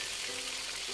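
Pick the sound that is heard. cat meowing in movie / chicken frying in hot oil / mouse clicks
chicken frying in hot oil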